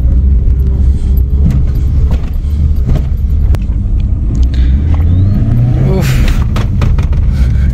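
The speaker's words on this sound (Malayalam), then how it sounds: "hand brake down in the first gear and of we go" A Hyundai Santro Xing petrol car pulls away in first gear, its engine rumbling steadily and rising in pitch as it accelerates, close up with a faint jangle of keys.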